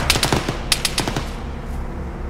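Arma 3 video game gunfire: a rapid burst of sharp, fairly close shots in the first second, then a short second volley before fading into a low rumbling background.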